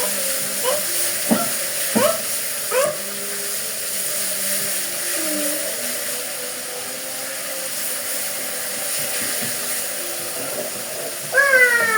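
Cardamom, cinnamon and cloves frying in hot oil in a pan, with a bay leaf, give a steady broadband sizzle, joined by a few brief clatters and stirring knocks early on and a short scrape near the end.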